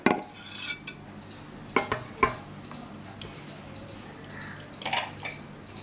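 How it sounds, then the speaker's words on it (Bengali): A hot steel tiffin box is lifted out of an opened pressure cooker, producing a handful of metallic clanks and scrapes at irregular intervals, close and moderately loud against quiet kitchen background. "টিফিন বক্সটা ভীষণ গরম, তাই আমি এইভাবে টিফিন বক্সটা বের করছি"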